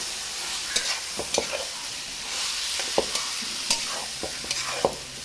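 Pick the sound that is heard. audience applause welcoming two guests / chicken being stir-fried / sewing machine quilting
chicken being stir-fried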